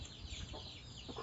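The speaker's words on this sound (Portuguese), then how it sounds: "Até que eu assusto com as galinhas aqui, com os bichos." Chickens cluck faintly on a rural farm at night, a few soft, scattered calls under steady background noise.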